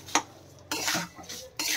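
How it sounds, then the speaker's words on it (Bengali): Rice with torn bay leaves and a dried chili is stir-fried for a village-style prawn pulao, with a clink at the start and then bursts of dry rustling, scraping stirs against the pan. "এবার এতে দিয়ে ভালোভাবে ভাজবো তারপর এতে আমি দিয়ে দেব দুটো তেজপাতা"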